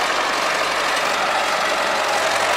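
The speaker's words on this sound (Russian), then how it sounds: "Упирается движок." A DT-75 crawler tractor fitted with a combine harvester engine, heard close and loud as a steady, dense engine roar that strains under load without letting up.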